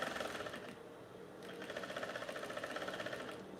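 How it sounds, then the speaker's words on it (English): A sewing machine runs steadily while stitching down the edge of a simple fabric top, a close, continuous rapid needle chatter with a brief pause near the one-second mark before resuming. "I'm just stitching it down to the end."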